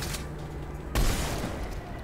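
An explosion in the video game Mass Effect 3 booms through dense, noisy battle sound, with a sharp blast midway followed by rumbling gunfire-like clutter.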